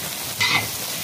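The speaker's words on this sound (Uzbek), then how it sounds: "Yaxshilab aralashtirib qavuramiz." Eggplant and onion sizzle in a frying pan while being stirred, a soft frying hiss with a brief louder scrape of stirring near the middle, heard close up and without talk.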